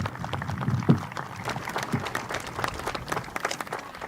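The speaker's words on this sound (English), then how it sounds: "so we can give you a round of applause" Ceremony audience clapping for people being recognised, a moderate, somewhat distant patter of applause with a few louder thumps, fairly subdued and fading slightly toward the end.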